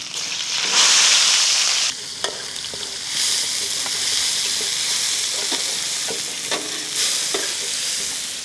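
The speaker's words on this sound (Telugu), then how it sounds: "వేడైన వెంటనే దీంట్లోనే మనం సన్నగా తరిగిన ఉల్లిపాయ ముక్కలు యాడ్ చేద్దాం" Finely chopped onions sizzle loudly in hot cooking oil and ghee for a dhaba-style mutton curry, a dense continuous frying hiss with intermittent clicks and scrapes from stirring.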